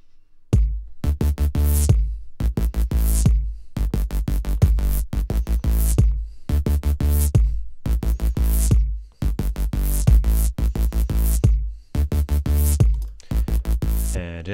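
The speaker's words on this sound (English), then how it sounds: "Together with a kick groove, it sounds like this." A dancehall kick drum groove with low and mid bass thumps in a steady repeating pattern, loud and punchy, with no voice over it.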